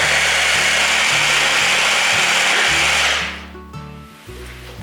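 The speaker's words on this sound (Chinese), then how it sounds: "放入1汤匙的黄豆粉， 再继续打成泥" A blender runs loud and steady, whirring as it purees carrots with a spoonful of soybean flour, then winds down and the motor fades to a lower hum near the end.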